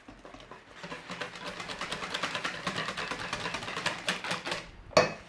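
Steady rapid whisking of Yorkshire pudding batter in a bowl, a fast rhythmic clatter running for several seconds before a sharp knock at the end.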